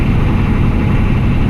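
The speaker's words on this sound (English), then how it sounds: "I got to shift it manually, so I'm putting it in 3rd gear right now." A Hummer H1 Baja rally truck's engine drones loud and steady from inside the cab while being driven in gear, a continuous low rumble with no talk.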